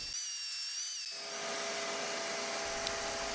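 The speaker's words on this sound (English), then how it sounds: "With some outdoor sanding, it gets better." A steady, high-pitched whirring of a power sander grinding against a wooden catamaran side board outdoors, continuous and close, with no talking.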